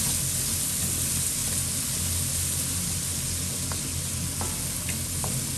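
Chicken and ingredients for adobong manok sauté in a hot pan, a steady loud sizzle with occasional soft scrapes of stirring and no talking.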